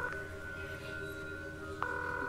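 Phone call ringing in the Korean horror video game The Coma 2, a steady electronic telephone tone that holds evenly, then a brief click as the call connects, all at low volume.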